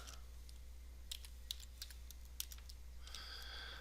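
A computer mouse clicks a handful of times in quick, uneven succession, light and close, over a low constant hum, with a faint brief tone toward the end.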